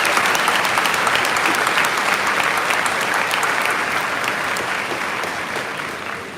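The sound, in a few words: applause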